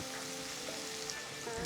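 Chopped onion, green chili and ginger sautéing in oil and ghee with mustard seeds and cumin, a steady close sizzle and crackle throughout a brief moment.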